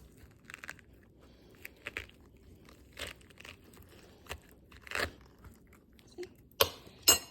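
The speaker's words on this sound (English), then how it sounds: "You can hear it separate. And then when you go to the other side, you can hear it separate again and they will pop out." Fresh pineapple chunks prying loose from the rind under a spoon, giving soft wet crunches and crackles at close range, faint at first and then sharper near the end, over a quiet background.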